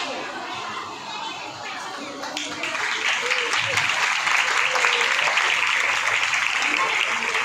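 Sustained applause from a temple audience at the closing of a Bhagwat Katha, a dense clapping crowd that swells louder after a couple of seconds and holds steady, with murmured chatter underneath.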